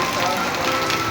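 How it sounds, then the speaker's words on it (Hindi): Steady rain falls outside from overcast clouds, a dense, even hiss of drops on surfaces throughout a brief moment, with no pauses. "ये देखो भाई बस बादलों में बारिश और बारिश के अलावा कुछ नहीं"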